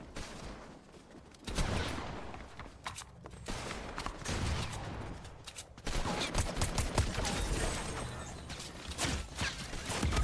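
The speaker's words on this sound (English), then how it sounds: "How can you friendly fire like that, Brat?" Fortnite gunfire: rapid bursts of shots with mechanical clicks, loud and close, continuing in irregular volleys after a quieter opening stretch.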